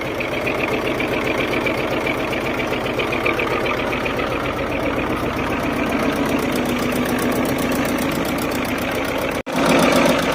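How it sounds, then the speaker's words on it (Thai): A small Hinomoto 23 hp diesel tractor engine idles steadily with a rapid, even knocking chug, close and continuous, cutting off abruptly near the end. "เครื่องยนต์เดินเบานิ่มๆนะครับ"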